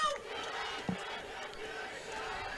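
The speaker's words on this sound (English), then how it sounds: "Home crowd getting a little bit restless" A home crowd at a Ross high school football playoff game murmurs and calls out restlessly from the stands, a steady, distant wash of voices with one short shout rising briefly above the noise.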